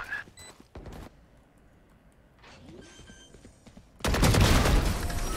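Gunfire from the video game Valorant: a few sharp isolated shots early, a quieter stretch with faint game tones, then a loud sustained blast of fire closing out the last second and a half.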